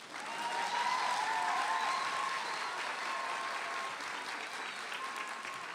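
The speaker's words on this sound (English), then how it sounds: "Y'all can clap for that." A high school graduation audience at Albany Leadership Charter School for Girls breaks into sustained, loud applause that fills the hall and holds steady before easing slightly toward the end.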